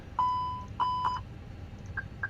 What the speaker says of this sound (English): Don't worry about the beeping